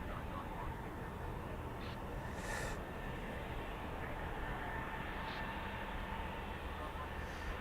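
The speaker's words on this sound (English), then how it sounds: "So this Ryanair taxi now is going out to Palma." A Ryanair airliner taxiing at Birmingham Airport gives a faint, distant, continuous engine rumble and whine that holds steady throughout.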